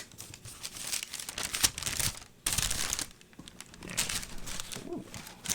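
Standard tissue paper crinkles and rustles inside a freshly opened Nike Dunk sneaker box, in dense, close, crackling bursts with a brief pause midway. No one speaks over it.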